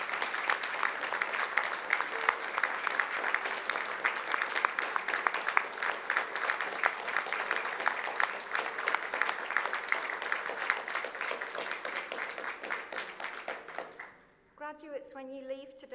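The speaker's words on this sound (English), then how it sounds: "give them a round of applause as well" A degree ceremony audience in a large hall gives the graduates' loved ones a round of applause, a dense, steady patter of many hands lasting about fourteen seconds before fading, after which a voice starts speaking.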